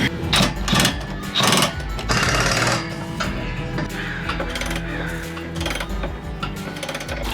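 A wrench tightens bolts on a Jeep, giving clicking, ratcheting mechanical bursts up close, loudest in the opening seconds and then continuing as quieter metallic working noise.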